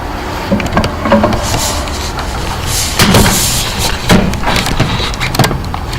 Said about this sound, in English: we're going to literally press the tire right out of the wheel